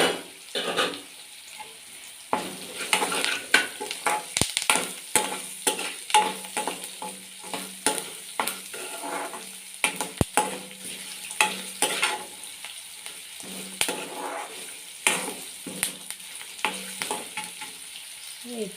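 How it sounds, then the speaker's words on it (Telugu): Crushed garlic frying in a pan for upma, a constant close sizzle broken by repeated stirring scrapes and spoon taps, with no talk. "ఇప్పుడు ఇందులో దంచి పెట్టుకున్న వెల్లుల్లి అండి"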